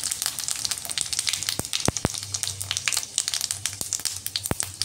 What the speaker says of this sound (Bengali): কড়াইতে তেল গরম হয়ে গেছে, দিয়ে দিচ্ছি 5 ফোড়ন